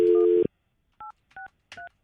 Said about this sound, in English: Do I not have to dial a 1 for 863?